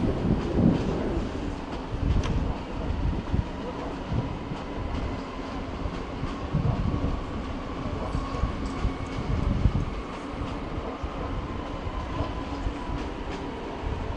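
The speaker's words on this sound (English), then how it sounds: "There's a Talent 2 regional service pulling in there in the background." A Talent 2 regional train pulls into München Hbf, its steady rolling rumble and rail clatter filling the station with a few sharper wheel clicks, no talk over it.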